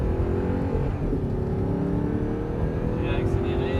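A car accelerates on a driving course during a pilot training session, a loud continuous engine roar heard close from inside the cabin, with an instructor talking over it.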